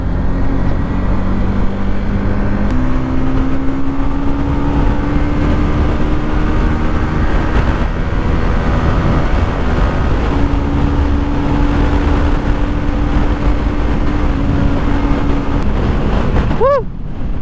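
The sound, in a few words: Honda CBR150R motorcycle riding, engine braking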